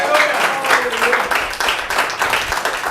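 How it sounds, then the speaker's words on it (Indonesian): Festive cheering and applause from a church congregation during a sermon, a dense, lively wash of clapping and voices that continues steadily for a few seconds. "Sorak-sorak yang meriah."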